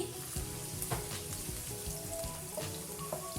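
Chopped garlic and red chillies frying in hot oil in a pan, a steady dense sizzle with scattered sharp crackles and pops, close and continuous with no talking.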